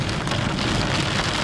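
Heavy rain pours steadily in Punjab, a dense, even hiss of drops hitting surfaces that fills the whole stretch without letup and with no voices.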